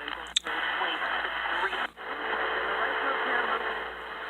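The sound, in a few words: shortwave radio station from Canada received on reel antenna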